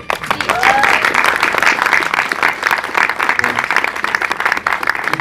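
An audience applauds loudly and steadily at an interview event with voice actors, the clapping holding for several seconds while a voice briefly rises over it near the start.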